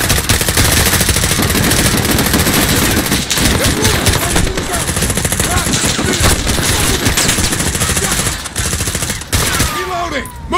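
Sustained automatic gunfire from Call of Duty: Modern Warfare, dense bursts of machine-gun fire, loud and continuous throughout, with shouted voices in the mix.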